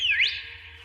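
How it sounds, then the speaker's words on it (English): A single short whistle blast swoops upward in pitch and fades, sounding as a signal for warriors to retreat in an animated fantasy battle; close, clear, alone. "Whistle all you'd like."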